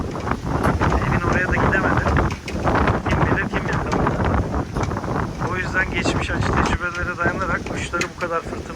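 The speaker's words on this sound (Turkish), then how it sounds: "Rüzgar da savuruyor, alıp gidiyor." Strong wind buffets the microphone with a constant rough roar during a windstorm while someone talks over it.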